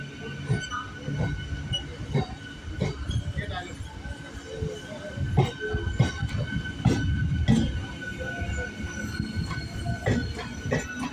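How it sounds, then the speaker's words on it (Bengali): A Barddhaman–Howrah local train, an ICF rake, rolls past as a steady mid-loud rumble, with wheel clatter and occasional sharp metallic squeals and clicks over eleven seconds. "এটা হচ্ছে বর্ধমান হাওড়া লোকাল"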